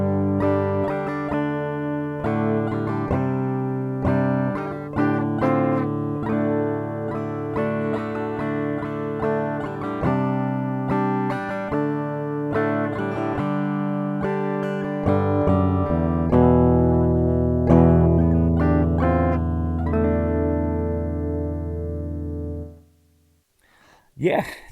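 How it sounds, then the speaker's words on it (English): A Donner DST-200 electric guitar fitted with a Super Distortion pickup plays heavy, distorted chords and riffs with sustained notes for over twenty seconds, loud and close, then drops to near silence at the end. "Definitely added a whole new genre of heavy to this guitar with the Super Distortion"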